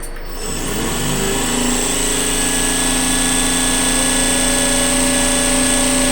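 A CP3 stroker fuel injection pump spins up on a test bench toward a 3,500 RPM test, a loud steady mechanical whine with strong tonal hum that rises quickly in the first second and then holds constant.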